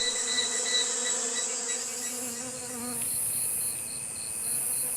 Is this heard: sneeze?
no